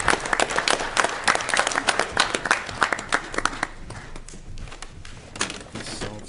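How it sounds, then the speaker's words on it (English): Applause at a city council meeting, with a roomful of people clapping steadily for a few seconds before the clapping thins out and fades away. "Let's give them a round of applause"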